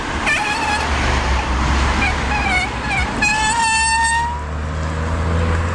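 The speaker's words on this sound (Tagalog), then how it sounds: "napakaingay ng brake natin mga kabisdak" Old bicycle brakes, unused for months, squeal in repeated rising tonal bursts over steady road and traffic rumble on a foggy ride, the squeals growing longer toward the end.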